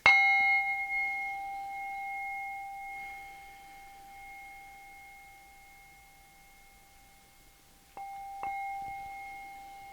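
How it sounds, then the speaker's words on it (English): A bell rung to clear energies gives one bright strike that rings out in a long, pure, slowly fading tone. Near the end it is struck twice more, in quiet surroundings with no talking. "We're going to clear our energies with my beautiful bell."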